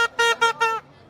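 A car horn honks amid the crowds at the Sayyid al-Badawi mawlid festival in Egypt, sounding four short, bright, nasal blasts in quick succession. It is loud and close, then falls silent.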